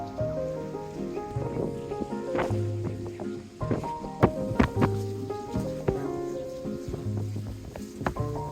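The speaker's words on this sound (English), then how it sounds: "This is what we do in the rain." Steady rain patters on a sailboat motoring through a narrow cut in the Exumas, a dense, continuous hiss with scattered louder drops and a low humming drone underneath.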